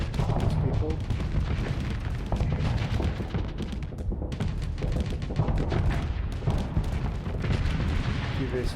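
Spaceship weapons fire continuously in a Starsector space battle, a dense barrage of booming, crackling shots and impacts with no pause, loud throughout, with speech mixed in.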